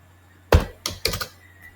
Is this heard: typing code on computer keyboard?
yes